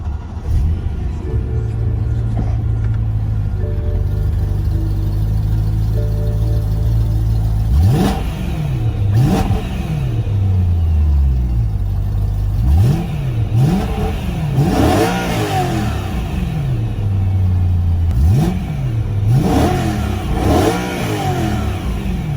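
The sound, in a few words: BMW E92 M3 engine starting up and revving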